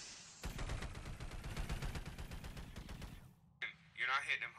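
Rapid automatic gunfire in a video game, a dense burst of shots lasting about three seconds, loud and close, followed by a brief pause and then a different short sound effect.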